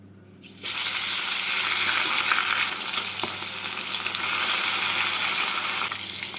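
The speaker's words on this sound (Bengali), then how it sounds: "মাছগুলোকে এপিট এপিট করে লাল করে ভেজে নিচ্ছি" Fish pieces sizzle loudly in hot mustard oil in a wok, a steady broadband crackle that starts after a brief quiet moment and continues close-up with no talk.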